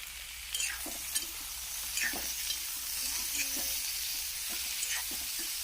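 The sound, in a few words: frying chana dal with other ingredients in oil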